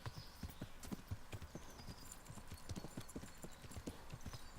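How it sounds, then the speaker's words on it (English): Quick, steady clip-clop of horse hooves trotting in the video game Kingdom Come: Deliverance, a continuous rhythmic clatter with faint background ambience and no talking. "All you have to do is ride on a horse."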